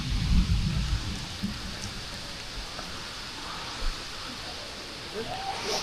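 Rain falls outdoors near Areeckal waterfall in Piravom, a steady close hiss with some low rumbling thuds early on and no clear speech.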